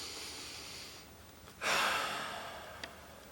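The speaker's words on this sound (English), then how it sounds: "take a deep breath." A single deep breath, a soft inhale followed by a louder, rushing exhale at close range, alone with no talking.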